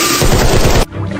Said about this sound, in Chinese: 开枪，打死这只巨蟒！